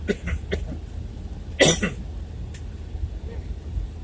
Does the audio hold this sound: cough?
yes